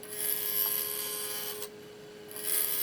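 A wooden bowl spins on a lathe at about 1,000 RPM, a steady broadband rubbing and scraping hiss with a constant motor hum, briefly quieter near the middle before rising again.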